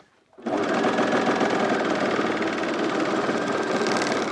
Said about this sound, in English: try and run along your serger without nicking the stitches you've already sewn with your blade